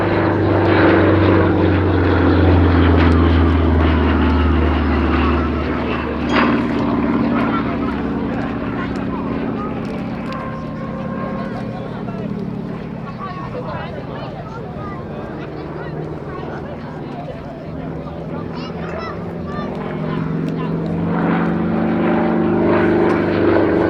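A propeller aerobatic aircraft at the Little Gransden Airshow drones steadily overhead, its engine note swelling and fading as it manoeuvres, with a commentator talking over the PA throughout.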